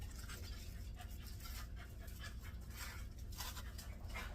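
Faint dog sounds in the background, soft panting and whimpering under a steady low hum.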